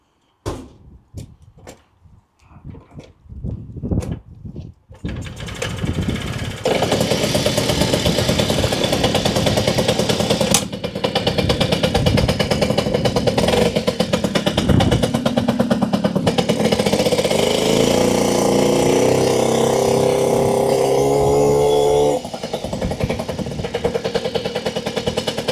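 A Puch Maxi moped engine starts after a few sharp kicks and pulses, then runs as a steady loud buzzing drone that rises and falls slightly with limited throttle before settling lower near the end.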